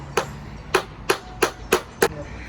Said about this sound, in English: So we're going to nail this down first, and then we'll continue to do the rest.